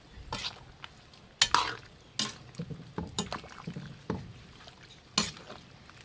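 Pork stew with banana blossom is stirred in a pot, a spoon knocking and scraping against the metal in a loose irregular series of close clacks over quiet liquid sloshing.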